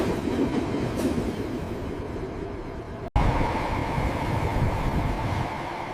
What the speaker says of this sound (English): The train is coming, Mia.